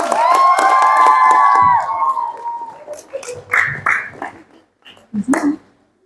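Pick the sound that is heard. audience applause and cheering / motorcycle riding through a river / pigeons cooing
audience applause and cheering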